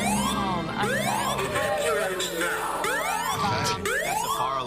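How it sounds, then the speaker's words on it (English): A fire alarm sounds inside a radio studio, a loud, continuous rising-and-falling electronic wail repeating about every second, filling the room for the whole stretch. "That's a fire alarm. We might need to evacuate."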